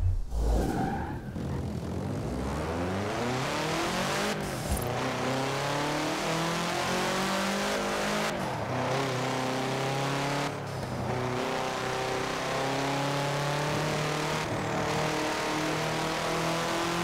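A car drifting in the racing game Forza Horizon 4: an engine revs up and holds a steady high whine with tyre skid noise, brief gear-shift dips breaking the sustained loud roar, no voices.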